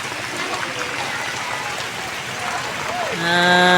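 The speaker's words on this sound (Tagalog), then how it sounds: "Lakas ng ulan." Heavy rain pours down steadily in Inocencio as a dense, continuous hiss, with a tonal sound rising and holding over it near the end.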